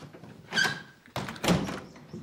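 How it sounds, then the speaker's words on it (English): A door being closed indoors: a short creak and soft thud, then a louder knock-like thunk as it shuts, close and with no talk. "Close the door."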